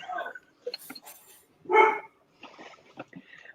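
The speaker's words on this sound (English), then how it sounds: "There's a dog." A dog barks a few short, quiet times indoors during a casual football-night livestream, faint sharp yips separated by pauses, with one fuller bark in the middle.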